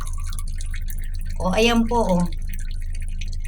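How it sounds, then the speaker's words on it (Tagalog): Weak tap water from a Primewater supply at 1 AM, a thin, steady trickle and drip running throughout. A person speaks briefly over it in the middle. "Ayan ang tulo ng tubig dito ngayon."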